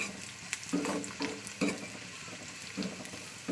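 Food sizzles and crackles in a hot pan, with a few scraping stirs of a utensil interrupting the steady frying hiss.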